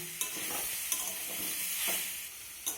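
Banana-stem and pumpkin curry with potato being stirred in a pan, a steady frying hiss broken by a few sharp spoon scrapes and knocks, with no voices.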